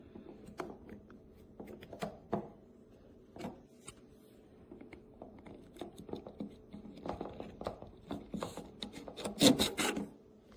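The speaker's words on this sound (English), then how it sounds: "I'm just showing you how this little bracket goes on." A small plastic bike light mounting bracket is fitted by hand onto a handlebar, giving irregular close rasping, rubbing clicks and snaps with short pauses between them, with no talking.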